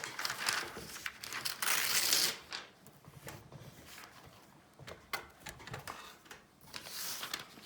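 Busy rustling and crinkling of paper sheets being shuffled, loud in quick bursts at first, then quieter intermittent handling.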